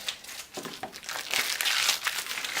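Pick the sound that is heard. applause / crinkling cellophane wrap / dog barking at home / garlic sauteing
crinkling cellophane wrap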